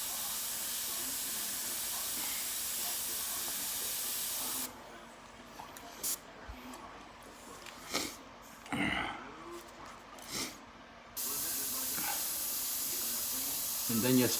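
An airbrush sprays paint over a stencil for a portrait study, a close, steady hiss that cuts off midway while someone talks and breathes, then resumes near the end.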